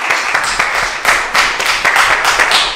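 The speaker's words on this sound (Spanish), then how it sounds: "¡Aplauso a Miguel!" A small group claps steadily, brisk overlapping hand claps at close range forming short, lively applause.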